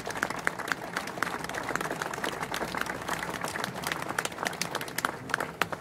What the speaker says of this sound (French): Un grand merci à eux, vous pouvez les applaudir